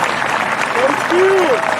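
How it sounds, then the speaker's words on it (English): Graduation audience at Carter High gives a steady round of applause for the teachers, a dense wash of clapping throughout with a few faint voices rising over it. "I'd love to give them a round of applause."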